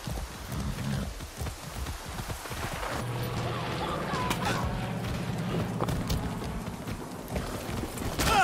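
Horse hooves clip-clop in Far Cry 6 as a ridden horse moves along, a steady rhythmic run of close hoof beats over soft background ambience, with a brief voice in the mix.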